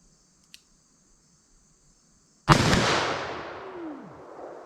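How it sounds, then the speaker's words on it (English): .44 Magnum revolver fired once at an outdoor range toward a target 40 yards away: a single sharp, loud report followed by a long rolling echo, with no talking. "Let's see if I can make any hits here with our 44 Magnum."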